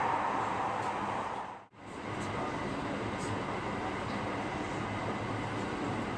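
Trains, one apparently a limited express, pass each other inside a tunnel on the Marine Liner route near Takamatsu, making a constant rumbling roar that dips for a moment and then surges back.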